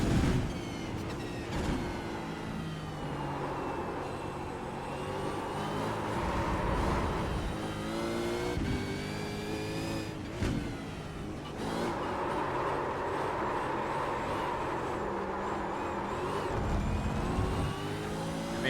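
A race car engine roars through a lap in the iRacing simulator, revving up and down through gear changes and easing off for corners, loud and continuous for the whole stretch.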